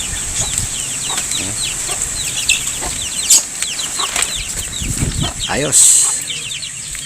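One-month-old pet chicks clucking and chirping in a small flock, with repeated short peeps and a few bursts of wing flapping, heard under a man's speech.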